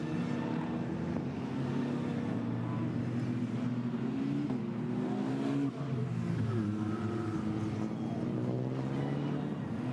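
GT4 race cars crawl in a slow pack toward the Mulsanne chicane at Paul Ricard, several engines droning together at low revs with steady, overlapping hum and occasional shifts in pitch, heard from a moderate distance.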